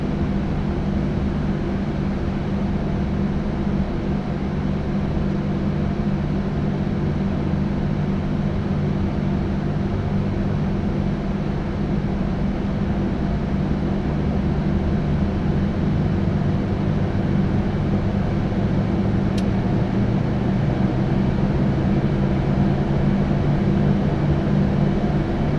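Twin engines of a PMDG 737-800 running in Microsoft Flight Simulator 2024, a steady loud cockpit drone with low hum and a slowly rising tone near the end, no voices.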